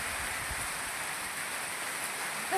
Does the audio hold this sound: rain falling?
yes